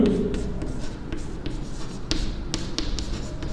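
Pen writing by hand on paper during a maths lesson on shares and dividends, a steady close scratching with a few sharper taps and strokes, continuous and fairly quiet.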